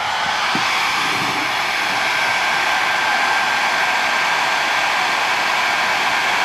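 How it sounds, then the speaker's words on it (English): A hair dryer blows on high in a loud, constant whooshing roar, running steadily and close by throughout. "you just turn your hair dryer on high"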